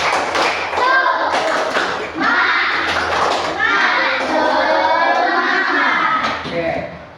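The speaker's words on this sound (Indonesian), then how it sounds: "coba tepuk semangat" Students in a classroom do a rhythmic spirit clap, sharp hand claps in quick patterned bursts mixed with children's chanting voices, loud and close throughout.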